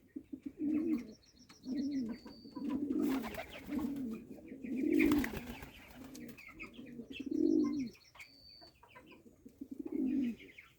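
A pair of white pigeons in a village yard coo again and again in throaty, rolling bursts, loud and close, with faint higher chirps between the calls.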